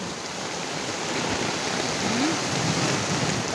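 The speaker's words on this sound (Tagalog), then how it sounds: "Dahil malakas ang ulan," Heavy Sunday rain pouring steadily in San Jose Del Monte, Bulacan, a dense, continuous roar of water hitting surfaces, loud and unbroken throughout.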